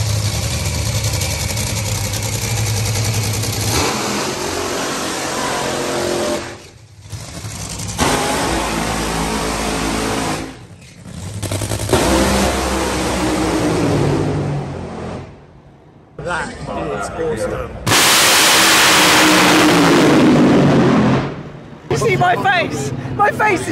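A car engine at a Euro finals event, where a £2500 tyre is destroyed, starts and revs hard in loud surging bursts with short drops between them, while people talk and shout excitedly close by.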